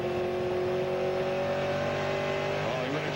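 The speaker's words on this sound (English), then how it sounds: "Look at the Corvette come off the fast corner better" A Corvette race car in the 1998 SCCA Trans-Am at Road America powers out of a fast corner, its engine note rising steadily and loud under continuous acceleration, with tonal whine climbing near the end.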